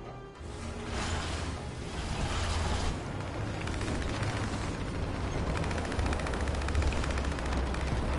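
Continuous heavy gunfire and cannon fire in the War Thunder tank battle game, a dense steady roar of shots and rumbling machinery with no clear gaps.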